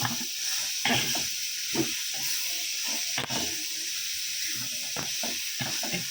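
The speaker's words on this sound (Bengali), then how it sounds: "এই যে সর্ষে শাকের চচ্চড়ি হচ্ছে।" Mustard greens chachchari with cumin paste, turmeric and green chilli, no potato, cooking in a pan, giving a steady soft hiss and steam with scattered low knocks and stirring taps throughout.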